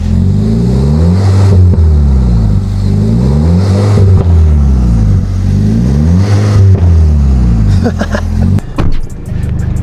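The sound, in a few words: Volkswagen Golf GTI engine revving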